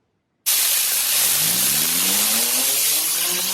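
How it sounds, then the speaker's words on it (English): A toy Power Wheels Jeep Hurricane tire spinning up fast, its small electric motor kicking in abruptly and whining loudly at a steady, slightly rising pitch, close and alone. "We're gonna get the tire going really fast."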